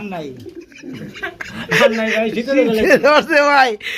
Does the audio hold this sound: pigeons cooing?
yes